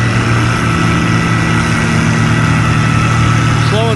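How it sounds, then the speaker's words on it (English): A Farmall 560 tractor engine pulls hard at a tractor pull, giving a loud, steady, deep bass-heavy drone that holds constant and close throughout. "That's that Farmall 560."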